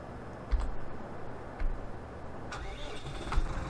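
A tractor engine starts in the video game Farming Simulator 15, with a few clicks and thumps followed by a mid-pitched engine catching and running at idle, fairly close, with no speech.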